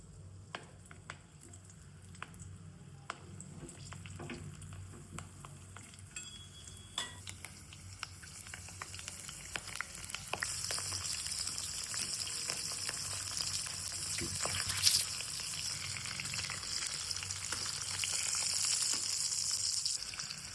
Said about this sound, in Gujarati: ધીમે ધીમે આપણે મરચાં મૂકીશું અંદર